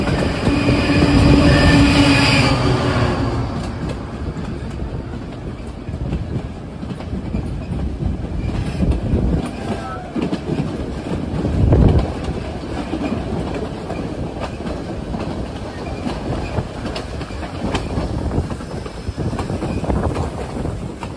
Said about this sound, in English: here we're about to pass a train going up the mountain